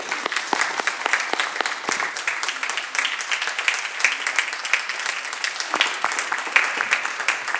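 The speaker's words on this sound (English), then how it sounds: "would you please rise so we will give you welcome applause" Audience in a state senate gallery applauds to welcome guests during a Korean American Day resolution, steady broadband clapping of many hands with individual claps standing out, moderately loud and continuous throughout.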